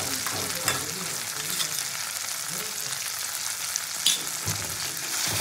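Spices with turmeric, salt and chilli paste fry in oil with a continuous close sizzle, broken by occasional spatula scrapes and stirring bumps.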